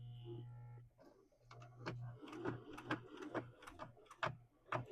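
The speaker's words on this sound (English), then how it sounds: "So I've started sewing down this side. I'm going slow. This is the thick part." Sewing machine stitching slowly down the thick side of a fabric placemat, with a steady mechanical hum and a run of rapid needle clicks and taps, close and moderately loud, with no talking.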